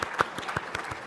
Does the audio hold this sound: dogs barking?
no